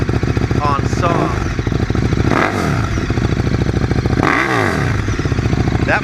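Loud, close exhaust roar from a KTM 1290 Super Duke fitted with a Remus exhaust, with several sharp revs that rise and fall over a constant rumbling engine note.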